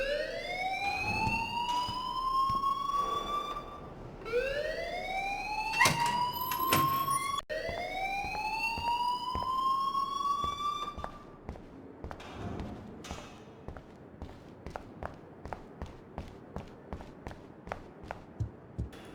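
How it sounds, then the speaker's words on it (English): An alarm rings through a school hallway in the Life Is Strange video game, a loud wailing siren sweeping up and down in repeated cycles, then falling away into sharp regular clicks and faint footsteps. "please turn off that alarm since that's your job"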